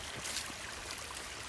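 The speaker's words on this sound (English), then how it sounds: "It's a nice little creek here" A small creek flows through a forest, giving a steady, faint rushing and trickling wash with no voices.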